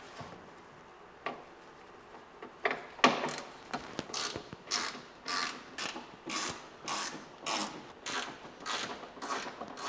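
Ratchet wrench loosening wheel well bolts on a Porsche 911, a rapid train of sharp metallic clicks in repeated strokes, close and fairly crisp over a faint background hum.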